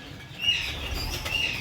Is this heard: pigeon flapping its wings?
yes